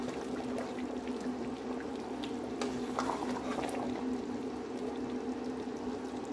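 A pot of Delta-style banga soup with periwinkles and fish simmers, a soft steady bubbling and faint liquid gurgle heard close and quietly, with no talking.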